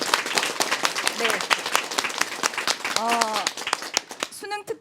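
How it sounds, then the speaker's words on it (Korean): A lecture-hall audience claps for a visiting instructor at a special talk, scattered applause mixed with voices talking over it and brief vocal sounds near the end. "박수."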